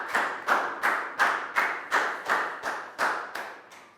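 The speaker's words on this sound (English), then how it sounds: "And a big round of applause." A Year 3 English class gives a round of applause: about ten even, synchronized claps in a steady beat, close and fairly loud, with no talking over them.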